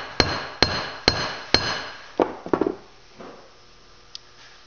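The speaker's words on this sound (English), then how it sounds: "if you have a hard surface, an anvil, or concrete, you can use a hammer" A hammer strikes a cable end on a hard surface such as an anvil or concrete, four sharp metallic blows in a steady rhythm followed by a few quicker, lighter taps, close and loud.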